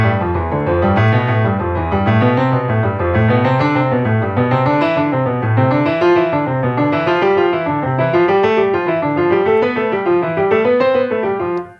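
Piano playing a Hanon finger exercise in steady running notes, each bar rising into a small crescendo and easing back, giving a regular one-bar swell, close and clear with no voice.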